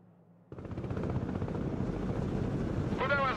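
Military helicopters in the Broken Arrow war game, a loud, steady rotor and engine drone that kicks in abruptly after a quiet start and holds, with a brief rising whine near the end.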